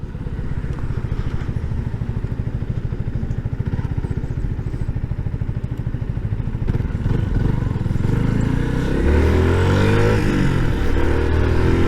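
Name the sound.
Yamaha MT 125 motorcycle riding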